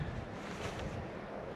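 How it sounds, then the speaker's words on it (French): Steady wind gusting across an exposed outdoor campsite at dawn, a continuous broadband rush with microphone buffeting that stays loud and unbroken throughout, with no voices. "L'endroit est plutôt sympa mais très venteux."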